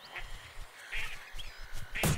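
Duck calls and quacking from the Duck Dynasty hunting video game come in a few short bursts over steady game noise, with a louder blast near the end.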